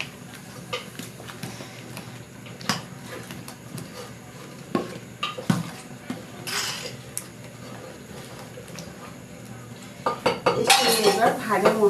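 A spoon scrapes and clinks against a pot while boiled rice and potato are stirred into hot water for khichuri, with irregular metallic knocks and a louder burst of scraping near the end.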